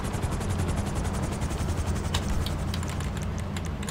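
A video game helicopter's steady rapid rotor chop thrums loudly throughout, with a constant low engine drone beneath it.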